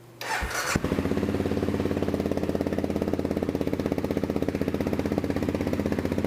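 An Aprilia Pegaso 650 motorcycle engine, running lean, catches after a brief crank, then settles into a steady, loud, rhythmic idle with a rapid even chug.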